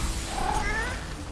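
Undead cat in the Divinity Original Sin 2 video game giving an aggressive, drawn-out hissing yowl, a steady noisy cry lasting over a second and heard close and alone.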